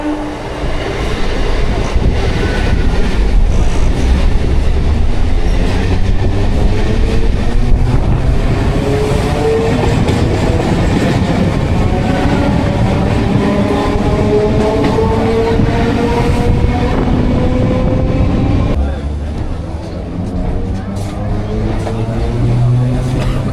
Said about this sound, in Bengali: তো চলুন ট্রেন জার্নি দেখে ব্লগটি বেশি বড় করব না